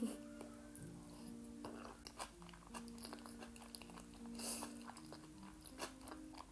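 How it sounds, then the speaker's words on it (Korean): Someone bites into and chews Korean kimbap, giving soft close crunches and moist chewing sounds at a low level, with faint background noise and no talking. "일단 한국 김밥을 좀 먹어보겠습니다"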